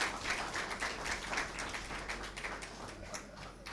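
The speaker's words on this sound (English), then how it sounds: "I'd like to give them all a round of applause at this point" An audience applauds the nursing graduands at a medical school graduation ceremony, with steady, fairly faint clapping from a crowd that rolls on for several seconds.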